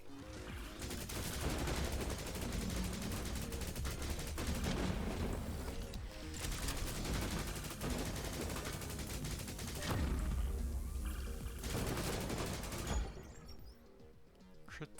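Laser weapons in the video game Cosmic Coliseum fire in a continuous, dense barrage of rapid zapping shots and impacts, loud and layered for most of the stretch, then thinning out near the end.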